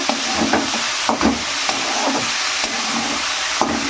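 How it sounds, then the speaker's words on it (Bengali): Chickpea greens are stirred with salt and spices in a hot pan, giving a continuous loud sizzle with repeated scraping strokes of a spatula, close and without speech. "এবার শাকগুলোকে খুব ভালো করে লবণ আর মশলার সঙ্গে মিশিয়ে নেব"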